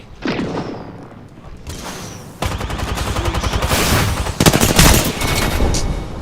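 Smart-bullet gunfire in Apex Legends arrives as overlapping volleys of shots and thumps. The barrage is loud and near and builds into a sustained fusillade with sharp bursts and swooshes.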